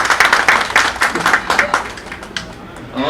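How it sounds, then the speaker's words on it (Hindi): A lecture audience claps for themselves, a burst of rapid, dense applause from many hands that fades after about two seconds. A voice starts to speak again at the end. "तो एक बार अपने लिए ताली बजा लीजिए"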